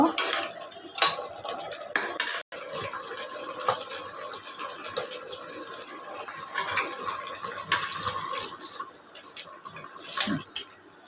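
A pot lid comes off and milk is poured into simmering white chicken curry, bringing clinks of utensils against the pot, light liquid pouring and stirring, close and uneven, with no talk.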